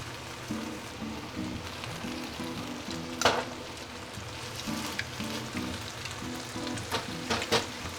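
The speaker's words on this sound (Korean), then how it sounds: "오늘은 기름을 조금 많이 넣어서 볶기가 쉬운데" Pork and vegetables stir-fry in a generous amount of oil, crackling and sizzling steadily with soft scraping stirs and a few sharper pops close by.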